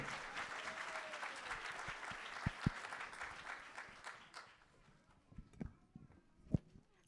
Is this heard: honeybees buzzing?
no